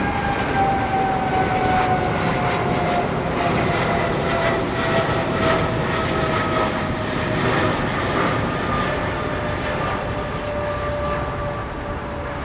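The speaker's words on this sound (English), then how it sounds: "It was a Dreamliner, wasn't it?" A Boeing 787 Dreamliner at London Heathrow passes with a loud, steady jet engine roar, rising whine tones slowly falling in pitch as it moves by, dominating the scene without voices.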